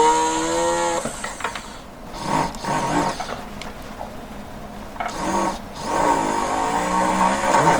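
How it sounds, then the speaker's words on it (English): A power drill whines and bites into metal in bursts while making a handmade brooch pin catch, revving up and down with short pauses between runs, close by. "So I'm gonna drill into that."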